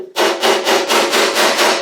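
Hammer blows on the steel door skin of a Triumph Herald 13/60 during restoration, about seven steady, evenly spaced metallic strikes, loud and close, with no talking.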